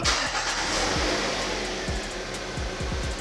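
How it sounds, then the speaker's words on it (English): A car engine with a P0420 catalytic converter code catches and runs, a loud, close, steady engine drone with a string of low rhythmic thumps and no talking. "Let's go ahead and just crank the car up."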